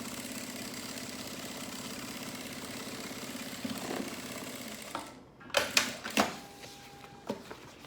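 A sewing machine runs a steady, even stitching seam close to a pocket on a lab coat holder, then stops and gives way to a few sharp clicks and handling knocks.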